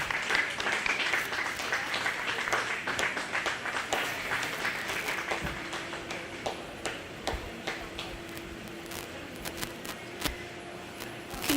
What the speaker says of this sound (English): I think we should give them all a nice round of applause